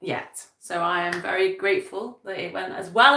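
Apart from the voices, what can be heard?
No distinct noise like a dog, phone or traffic.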